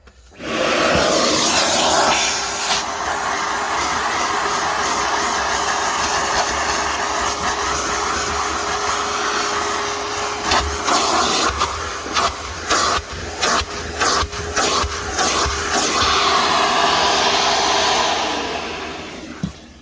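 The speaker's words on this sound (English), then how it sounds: "I'll give you an example with a vacuum cleaner first" A loud household vacuum cleaner cleaning pet hair from a vehicle whirs steadily with a high hiss, then sputters and cuts in and out near the end before dying down.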